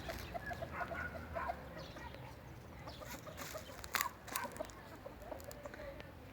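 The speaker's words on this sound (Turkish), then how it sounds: "Tavuklarımız var." Chickens cluck softly in a steady patter over outdoor background noise, with a few sharper squawks near the middle.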